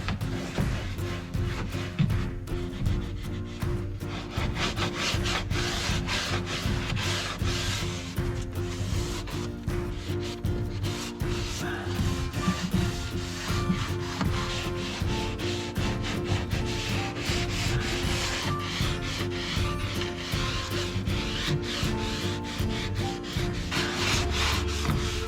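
Steady back-and-forth rasp of sandpaper rubbed by hand over wood, continuous and close, with no talking.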